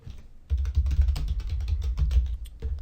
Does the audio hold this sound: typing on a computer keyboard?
yes